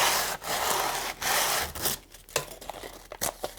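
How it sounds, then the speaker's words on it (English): Sandpaper rubs along the edges of a craft piece, a close, dry scraping that starts as long steady strokes and breaks into shorter quick swipes. "I'm going to be taking some sandpaper"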